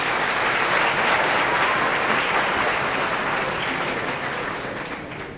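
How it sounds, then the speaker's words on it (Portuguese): A concert audience at a chamber orchestra performance gives loud, dense applause for the tuba player. The clapping is close and sustained, then gradually tapers off toward the end. "Vocês pedem uma salva de palmas para o Elvis."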